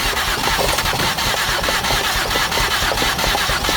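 A 2008 Ford Escape with a no-start fault cranking over, the starter churning in a fast, even pulsing rhythm with a mid-pitched mechanical drone, close and loud throughout, with no speech.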